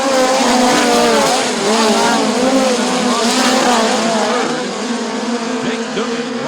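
Midget race cars roar through a heat race at Bubba Raceway Park, with loud engines wailing and rising and falling as they pass. A commentator talks over the noise.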